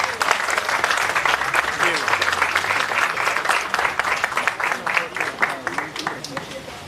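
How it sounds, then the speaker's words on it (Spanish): Audience applause fills a carnival handover ceremony, a dense, steady wash of clapping from a large crowd with a voice faintly mixed in. "Um forte aplauso."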